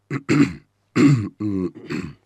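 In an Amharic radio drama, a man clears his throat in several rough voiced bursts with short gaps, close and fairly loud.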